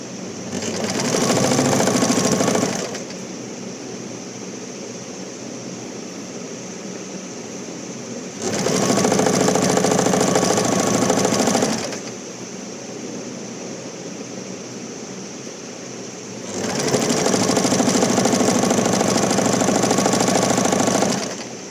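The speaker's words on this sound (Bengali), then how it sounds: "যা যা লেস আছে সেটা আগে আমি সেলাই করে ফেলবো" A sewing machine stitches lace onto a dress in three loud, steady bursts of whirring, each a few seconds long, separated by quieter pauses with faint background hum.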